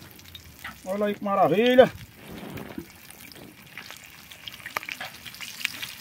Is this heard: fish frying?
yes